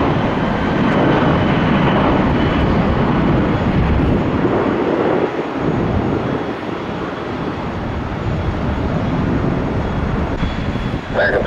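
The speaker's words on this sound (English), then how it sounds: "Oh, aircraft." A Gulfstream G550 jet at Tampa airport produces a loud, sustained engine roar with a rushing, windy texture that eases slightly partway through, heard close.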